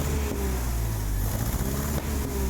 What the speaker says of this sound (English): Pops and bangs because it did not run right.